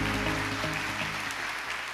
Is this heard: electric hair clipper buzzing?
no